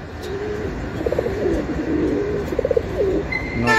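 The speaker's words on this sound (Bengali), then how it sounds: "এটা একটা বাঘা কবুতর, এটা সাপচিলা কবুতর না" Bagha breed pigeons give low, throaty coos in short rolling bursts, repeated a few times close by over a faint background hum.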